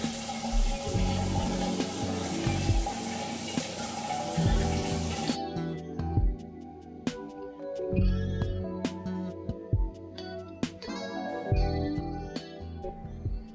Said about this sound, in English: The water pressure in the shower was not very strong. It looked like it was fitted with a water-saving shower head.